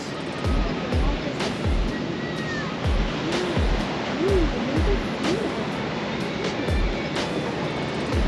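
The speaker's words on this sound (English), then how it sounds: "It's the water coming down from the mountain." Muddy brown runoff rushing down from a mountain on Catalina after heavy rain, a loud, continuous roar of flowing water with low recurring thumps, while people talk over it.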